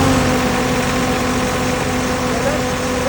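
A 12,000 PSI water jetter's engine runs at a steady, loud idle throughout, with a constant low drone and no change in speed.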